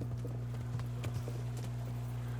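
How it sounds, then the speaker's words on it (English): Horse hooves clip-clop in a video game, a run of quick irregular steps over a steady low hum, with no talking. "See, there's a horse here."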